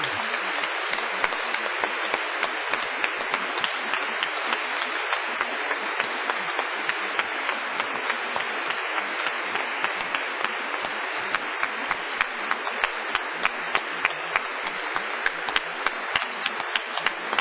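Graduation audience applauding family and friends, a long, steady roar of many hands clapping at an even level from start to finish, with sharp individual claps standing out close by.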